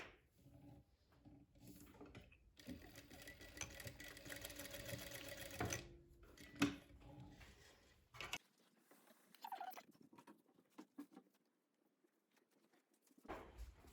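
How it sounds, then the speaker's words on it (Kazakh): A sewing machine stitches fabric for a turban in short runs of rapid, close mechanical clatter, separated by pauses, small handling knocks and near silence. "1-2 тігіс жүргіземіз."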